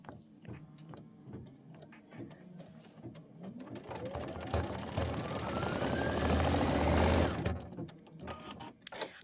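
An embroidery machine stitches a Kimberbell quilt block, starting with slow scattered clicks, then building into a loud steady whirring drone with a rising pitch sweep before it stops and sparse clicks return.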